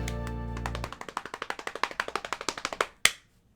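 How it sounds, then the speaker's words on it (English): Hands clap against legs in a quick, even run of about a dozen sharp slaps. The run starts right after a sustained musical tone fades and ends with one louder smack. "That was me clapping my legs right now."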